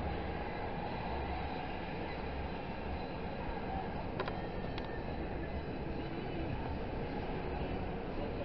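A freight train rolls past near Conway Yard in Pittsburgh, Pennsylvania, with a continuous heavy rumble and wheel noise plus a couple of brief metallic squeals.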